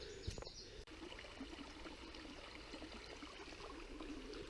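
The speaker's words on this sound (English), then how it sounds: "Sound of water everywhere." Steady, soft rush of flowing stream water on the North Yorkshire moors fills the whole stretch, with a faint knock near the start.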